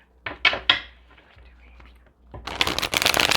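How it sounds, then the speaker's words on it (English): Tarot cards being shuffled by hand: three quick riffling snaps at the start, a quiet pause with light handling, then a longer, louder flurry of rapid card riffles close by. "one more shuffle of the tarot cards while we're here"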